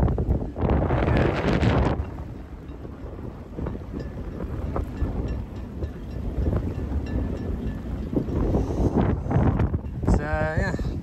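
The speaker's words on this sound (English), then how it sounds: "So yeah, pretty windy" Strong wind buffets the microphone in a constant rough rush, with a person speaking briefly at the start and end.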